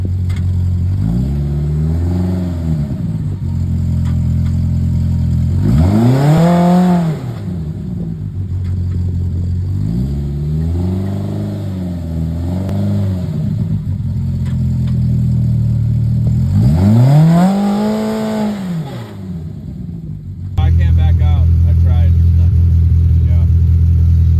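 A Polaris Pro R off-road vehicle, stuck at the start of a rocky dirt trail, spins its wheels. The engine revs up and down loudly in repeated surges at close range, with clatter and rumble and people talking over it.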